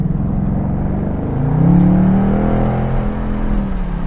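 A 2024 Ford Mustang Dark Horse with an automatic transmission drives hard through a turn, its engine droning steadily, then rising in pitch and revving louder midway before settling, with no talking.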